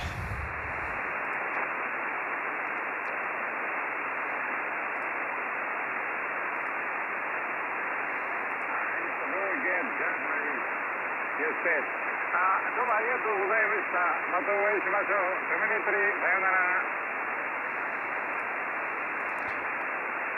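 A voice comes through an amateur radio receiver on the 6-metre (50 MHz) band, buried in steady hiss and static, thin and band-limited, with the static running alone at start and end.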